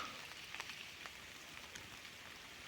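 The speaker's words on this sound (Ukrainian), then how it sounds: "дощик іде" Light rain patters faintly in an autumn forest, with soft scattered drops tapping leaves under a quiet, steady hiss.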